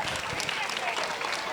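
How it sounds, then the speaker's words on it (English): An audience gives a round of applause at a school chess week event, a dense, steady patter of clapping hands filling the room without a break. "We can give him a hand clap."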